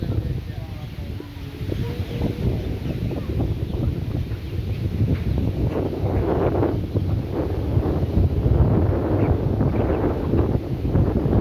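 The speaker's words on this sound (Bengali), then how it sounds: "কত সুন্দর বাতাস।" Wind blowing steadily beside a seashore near a village pond, a continuous low rumbling gust with buffeting on the microphone, rising slightly toward the end, with faint voices underneath.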